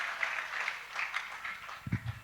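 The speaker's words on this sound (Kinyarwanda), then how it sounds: "Kadukomere Imana amashyi menshi cyane." A congregation at a church worship gathering applauds in steady, rippling claps, moderately faint and unbroken, with a few heavier low thumps near the end.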